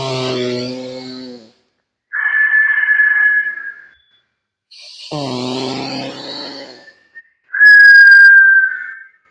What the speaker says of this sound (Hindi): तो मुंह से सीटी बजाते हुए छोड़ना है।